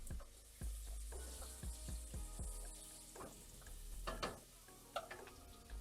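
Garlic sizzles quietly in a pan while being stirred for chicken fricassee, a soft steady fizz broken by scraping strokes and clinks of the utensil, close but low in level.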